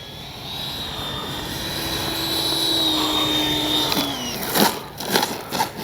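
Freewing 90mm F-4 Phantom II RC jet on landing approach with throttle eased, a steady electric ducted-fan whine that drifts and then drops in pitch, followed by a few rougher bursts near the end.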